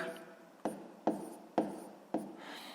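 Pen strokes on paper while working a 6th-grade fraction exercise: four distinct scratchy marks in a steady rhythm, close and fairly quiet, with no talk.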